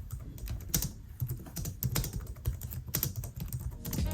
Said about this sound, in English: So here's an example so you get an idea of what it actually sounds like.